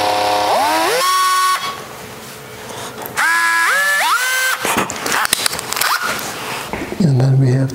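A Bosch power drill used in violin work on a decorated Stradivari Hellier violin, its motor whining up in pitch in two loud bursts separated by a pause, followed by grinding, rattling noise and another short spin-up.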